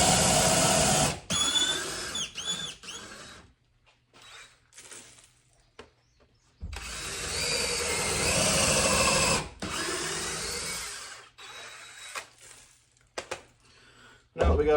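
A power drill boring into wood to build a carpenter bee trap whines in bursts, stopping and starting, with a long steady run in the middle; a voice talks in the quieter gaps.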